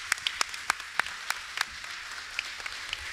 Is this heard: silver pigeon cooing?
no